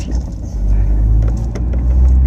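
A Tofaş Şahin 1.6 i.e. car engine runs with no exhaust fitted, giving a loud, steady low rumble that swells slightly as it revs, with faint voices in the background.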